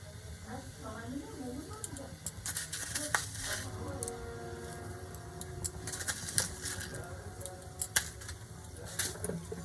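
Salt and sugar are stirred into a drying pea kachori filling in a pan, heard as repeated scraping and soft sizzling strokes, close by, running under ongoing speech.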